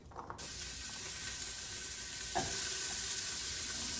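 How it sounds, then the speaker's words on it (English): Chopped onion hits hot olive oil in a preheated pan, bursting into a loud, steady sizzle that fills the scene alone, with a brief brighter crackle midway. "My pan's been heating. I'm going to add some chopped onion"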